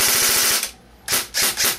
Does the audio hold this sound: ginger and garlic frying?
no